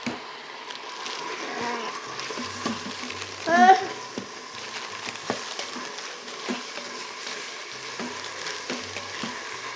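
Chili is stirred in an Instant Pot, with a soft ongoing simmer, a louder scraping and squishing burst near the middle and light taps from the spoon afterward.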